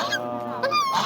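Ducks honking at a Bangladeshi poultry market where ducks and chickens are sold, a few short nasal quacks close by over a busy crowd murmur.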